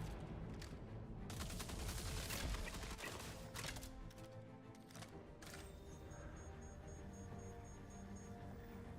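Enemy gunfire in the Star Citizen video game: dense, continuous bursts of shots crackle over a busy mix of game sound, with no voices heard.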